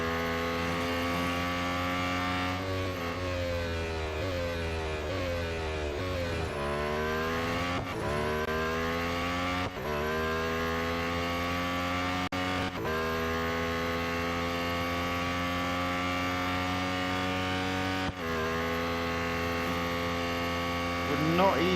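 A Lotus Emira GT4 race car in Real Racing 3 drones loudly throughout, its engine pitch climbing through gears with abrupt shift drops and one deep deceleration under braking, constant and close without any talking.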